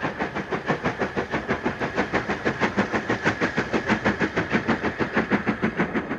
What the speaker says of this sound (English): a Fairburn Class 4 leaves Leyland Station with a local passenger train